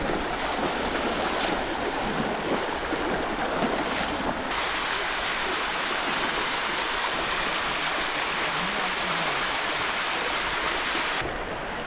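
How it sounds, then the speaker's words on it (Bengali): Rain falls and a swollen hill stream rushes at Ponthishila near Sitakunda, a dense, steady roar of water close by with no break and no voices. "তো এই যে আবার বৃষ্টি শুরু হয়ে গেছে।"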